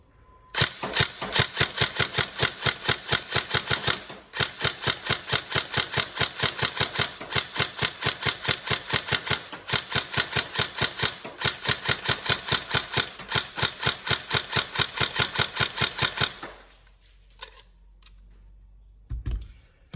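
Tokyo Marui 416 Delta NGRS airsoft electric gun firing a long rapid full-auto stream of shots, loud and close, with two short gaps, then the mechanism stops and falls quiet.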